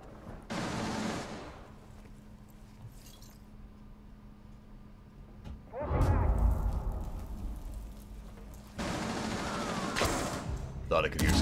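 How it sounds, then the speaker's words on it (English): Bursts of gunfire in Rainbow Six Siege, loud rattling volleys with a quieter stretch between them, a low hum underneath. "Hearing gunfire southwest."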